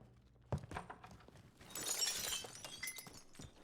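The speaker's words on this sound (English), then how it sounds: "God knew exactly where he was at when he broke glass." Glass shatters in a squad-mode shooter video game: a sharp thunk, then a bright, scattering burst of breaking glass with tinkling fragments and a few scattered knocks.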